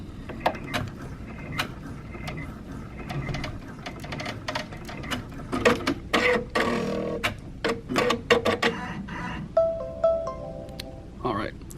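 A 6-needle embroidery machine runs a placement stitch for appliqué on a baby onesie, giving bursts of rapid mechanical ticking and clatter that start and stop. Someone talks nearby throughout.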